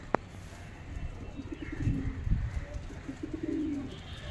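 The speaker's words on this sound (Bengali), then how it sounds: "এটা মাদা পায়রা আপনাদেরকে শখ করাচ্ছি, দেখুন।" A male pigeon cooing in a loft, low soft rolling coos in a couple of close phrases, with a sharp brief click near the start and faint background noise.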